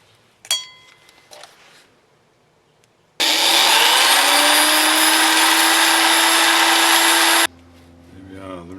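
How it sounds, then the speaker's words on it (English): A power drill with a 1/8 inch bit whines loudly for several seconds as it bores a rivet hole during a Morris Minor 1098 rebuild, starting abruptly and stopping cleanly, with faint clicks and handling noises before and after. "I'm just going to drill this hole here. This is a 1/8 inch drill."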